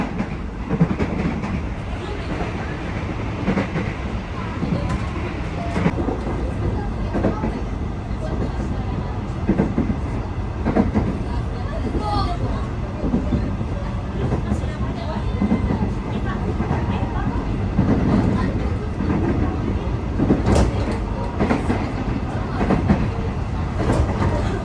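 KAI commuter train running on rails on the Manggarai–Bogor line, a steady loud rumble of wheels with faint rail clatter throughout, close and continuous inside the car.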